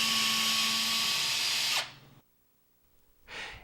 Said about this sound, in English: drill the 2 mounting holes.